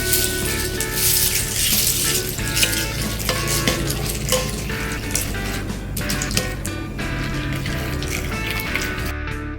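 Cornflakes stirred into a bowl of yogurt for a mixed fruit breakfast bowl, giving a steady close scraping and crunchy rustle with small clinks throughout, no talking.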